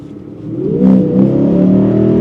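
A 2025 Lexus IS 500 V8 in Sport Plus mode revs sharply through a couple of downshifts, the loud engine note blipping up and then holding a strong, steady drone close by.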